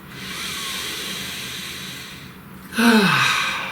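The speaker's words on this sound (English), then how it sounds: "Please take a nice deep breath" A single deep breath, a long soft inhale followed by a louder, close, breathy exhale that fades out, with no talking.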